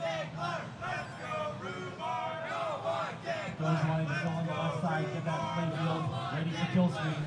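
A cheering section in the crowd at a Tetris tournament, a lively babble of many voices shouting and cheering continuously at moderate distance, with swells and a few louder whoops.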